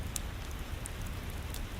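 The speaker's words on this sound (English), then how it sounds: "So tonight, as the rain falls, soft, steady, unrelenting" Soft, steady rain falls as a continuous low hiss with occasional faint drip ticks, heard alone at an even, quiet level.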